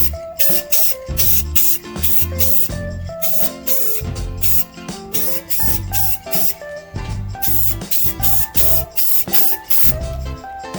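Paint sprays onto a scale model kit in a rapid series of short aerosol bursts with brief pauses between them, close and fairly loud, over a steady tonal background.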